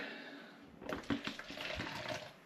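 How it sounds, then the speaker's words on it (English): Homemade mixed fruit and tea cider poured sloppily back into a jug, a close, continuous splashing liquid pour with gurgles that starts abruptly and runs steadily to the end. "I'm going to pour some back into the jug"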